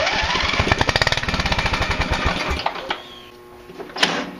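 An old tractor engine cranking over on full choke with the pedal down, turning with a fast, rhythmic chugging from the starter that slows and stops without catching, close up and loud, followed by a faint click.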